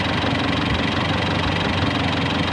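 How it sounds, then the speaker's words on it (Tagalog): A Mitsubishi Montero with a 4D56 diesel engine idles just after starting, a loud, close, steady clattering rumble with a slightly uneven knock. "maririnig nyo na hindi pa stable yung kanyang minor dahil kakastart pa lang, kakasirkulit pa lang ng ating diesel"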